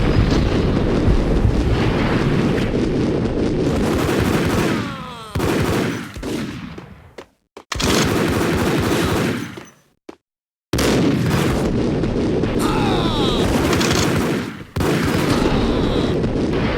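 Gunfire in the Max Payne video game: loud bursts of rapid shots and heavy blasts with gaps of silence between volleys, no talk.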